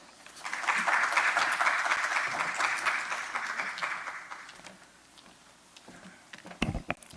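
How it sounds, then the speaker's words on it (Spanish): Applause welcoming a doctor at a parents' workshop on sensory processing disorders, swelling quickly, holding for a few seconds, then tapering to a few scattered claps, fairly soft overall. "Recibimos entonces en este momento con un fuerte aplauso al doctor"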